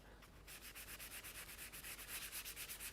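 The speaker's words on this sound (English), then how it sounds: "Now I'm going to get my DIY, my little sanding block." Rapid, even back-and-forth rasping of a small DIY sanding block against a surface, faint and steady, with rhythmic scratchy strokes and no voices.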